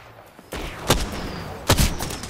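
Gunfire in Apex Legends: a couple of sharp, loud bursts of shots a second apart over a steady background wash, with no talk.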